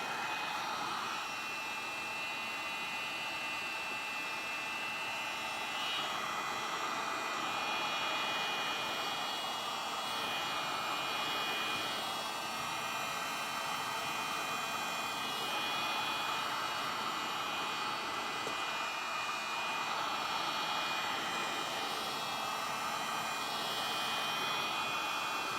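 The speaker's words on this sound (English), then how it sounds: "Let's get the heat gun out because this one is bent." Heat gun blowing during a decoupage and mixed media chalk flower craft session, a continuous even airy whoosh with a faint steady whine that holds throughout, with no speech.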